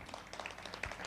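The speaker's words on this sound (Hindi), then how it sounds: "जोरदार तालियां चंद्र भाई" Faint, brief applause from a seminar audience in a restaurant, with scattered individual claps popping through a soft, even patter.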